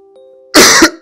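A person lets out a single short, harsh cough, a close and loud burst after a quiet moment with a faint steady hum.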